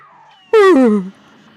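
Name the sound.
cat boss meowing in Cuphead video game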